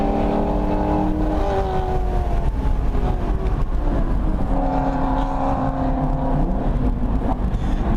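A Miata race car at full throttle on the VIR track, with a loud sustained engine roar and rising, shifting pitch from inside the car, heard without speech.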